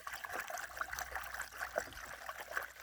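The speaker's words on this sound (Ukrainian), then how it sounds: "Виливаємо останню воду до повного бачка." Water trickles and splashes steadily into a sprayer tank, a light continuous pouring sound up close with no voices.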